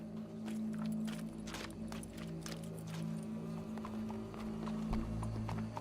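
Horse hooves clip-clop in Red Dead Redemption 2 in a steady, even walking rhythm over a low ambient hum, moderately close, with no talk.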